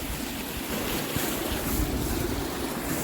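Clear, fresh water of the Sutlej River rushes past near Kalpa in Himachal Pradesh, a steady close-up roar of broadband splashing and churning with wind-like hiss, continuous throughout with no voices.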